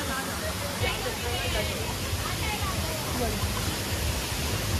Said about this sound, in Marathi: हो पण एक धबधबा भारी वाटत.